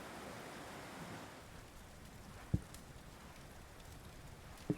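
Rain falling outdoors in the video game Dragon Quest XI, a soft, steady hiss with two brief sharp taps standing out over the faint wash.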